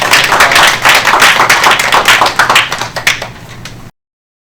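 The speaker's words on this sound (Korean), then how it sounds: "우리 주님께 영광의 박수 한번 올려드리겠습니다" A group claps together in an office at a Korean insurance company's open house and move-in event, dense and loud for about four seconds before it stops abruptly.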